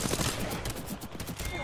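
Rapid gunfire in the Apex Legends video game during a squad fight, a dense continuous burst of shots throughout, with faint voice mixed in underneath.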